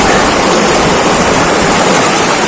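Strong current of a rocky river in General Nakar, Quezon rushes in a loud, dense, unbroken roar of churning water, close by and steady throughout.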